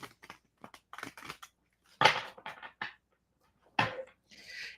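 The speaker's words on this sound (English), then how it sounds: "let me do a little shuffle here" Tarot cards shuffled by hand in short, irregular bursts of soft papery riffling and slapping, close and fairly quiet, separated by brief silences, with no talking.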